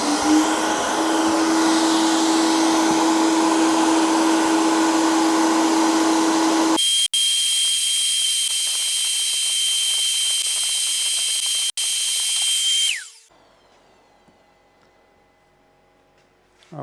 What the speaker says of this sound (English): now we are on the sandblasting machine, and we are blasting this to be ready to paint